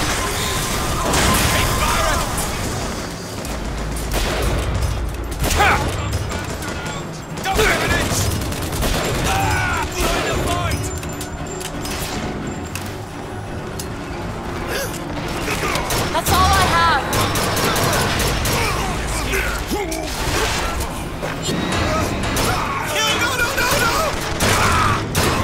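Gun turrets and weapons fire in the video game BioShock Infinite, with dense bursts of shooting, crashes and explosions running throughout over a loud, busy game soundtrack, with voices heard at times.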